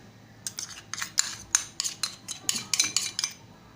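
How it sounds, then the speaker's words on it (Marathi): Quick clinking scrapes of a metal spoon against a bowl as soaked sago is mixed with crushed peanut powder, a dozen or so close taps in an uneven rhythm. "व्यवस्थित मिक्स करून घेते"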